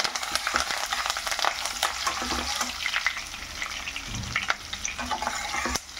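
A tempering of onion, dried and green chillies, curry leaves and garlic sizzles steadily in a pan with oil, a close, continuous crackle broken by occasional scraping stirs.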